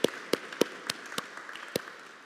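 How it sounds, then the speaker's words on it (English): Sparse applause in a church gathering honouring a retiring senior sacristan, a handful of distinct claps standing out over a thin, quiet patter that fades toward the end. "let's give him a round of applause."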